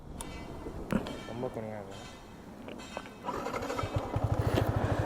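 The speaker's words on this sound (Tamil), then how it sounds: "ஸோ காய்ஸ் இப்போ வந்து வண்டி ஸ்டார்ட் பண்ணிட்டோம். உங்களுக்கு சவுண்ட் கேட்குதா?" Yamaha MT15 BS6 motorcycle engine starting up, with a steady low rhythmic idle pulsing in over the final seconds, close by and moderately loud; people talk over the first part.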